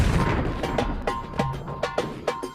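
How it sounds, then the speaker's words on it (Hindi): Rapid bursts of gunfire near a bunker in a dramatized scene, several sharp thumping shots in an uneven rhythm over a dense rumbling bed. "फायरिंग फिर से शुरू हो चुकी है"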